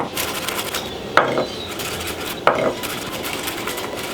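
A white-handled knife taps and rasps on a board while mincing garlic and gathering it, two sharper knocks over a continuous gritty scraping, close and fairly loud.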